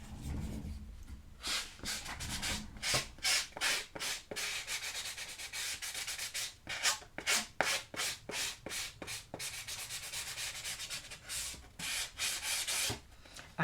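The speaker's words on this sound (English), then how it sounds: "That one I might be able to just sand down, which it looks like it could use anyway." Sandpaper rubs down the burry cut edge of paper for a scrapbook album, producing repeated close, scratchy back-and-forth strokes in a steady rhythm with short gaps between passes.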